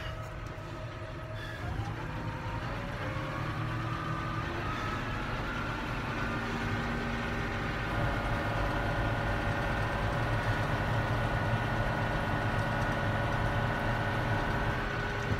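A tractor runs a hay baler at 540 RPM PTO speed while baling high-moisture grass, a continuous loud mechanical drone with a steady engine hum and whining tones, close by and unbroken throughout.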